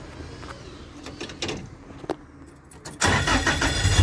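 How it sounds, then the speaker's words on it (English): Ford Escort Mk1 fitted with a Toyota Beams engine, with clicks and mechanical clunks before the engine catches around the third second and settles into a loud, close, steady running sound. "Got a nice smooth idle now."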